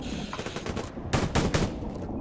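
Gunfire in the shooter game Survarium: a stretch of rattling shots followed by a few loud, closely spaced bursts near the middle, fading into quieter firing.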